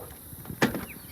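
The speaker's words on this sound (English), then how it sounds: "Let's see if the door closes" A single dull thud of a Toyota HiAce van door swinging shut, close by and brief, with quiet background before and after.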